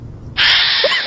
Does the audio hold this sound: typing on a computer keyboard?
no